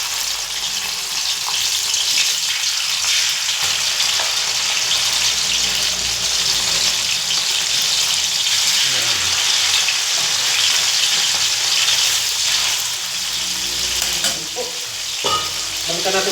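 Oil in a frying pan crackles and splatters loudly and continuously at close range, a dense, hissing sizzle broken only by small pops, with no voices.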